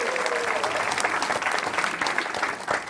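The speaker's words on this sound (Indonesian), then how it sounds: "tepuk tangan dong buat Dr. Boyke" Audience at a televised stand-up comedy roast applauding for Dr. Boyke: loud, dense, continuous clapping from a large crowd that swells slightly toward the end.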